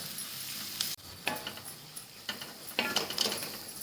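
Onions sizzling and frying in a pan with coriander and salt for a Maharashtrian zunka, a steady close crackle broken by a few brief stirring scrapes and clinks, no talk.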